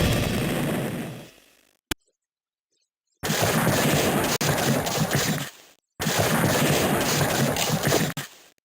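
Massed troop volleys in the Civil War Generals 2 strategy game: a short sharp crack, then two long sustained bursts of loud rolling gunfire separated by a brief silence.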